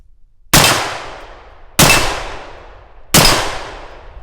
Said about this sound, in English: Let's shoot that black steel AR-500 back there. That one should ring.